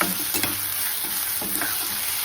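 Bay leaf, stone flower and cinnamon fry in hot oil for dum aloo, giving a steady close sizzle broken by a few light stirring scrapes.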